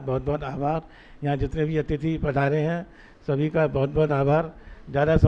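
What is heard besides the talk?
No distinct noise like a dog, phone or traffic.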